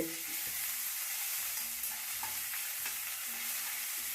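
Garlic paste frying in a pan with curry leaves, giving a steady, close sizzle with soft scraping stirs throughout and no talking.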